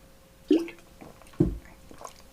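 Two wet gulping swallows of drinking water, close and distinct about a second apart, in a quiet room with faint breathing between them and no speech.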